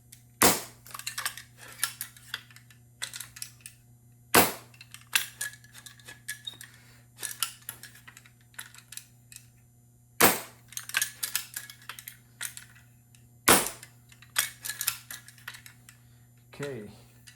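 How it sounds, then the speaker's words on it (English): A Daisy Red Ryder BB gun is cocked and fired in a quiet room, giving four sharp, loud snapping shots spaced several seconds apart, with clicking and rattling handling noises and a few soft spoken words between them. "let's go ahead and cock it. Fire it off a couple of times."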